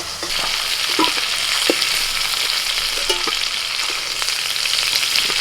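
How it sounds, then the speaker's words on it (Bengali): Shrimp frying lightly in hot oil, giving a steady close sizzle throughout with a few brief utensil clinks, no talking. "চিংড়ি মাছ খুব বেশি ভাজবো না একদম হালকা করে ভেজে তুলে নেব"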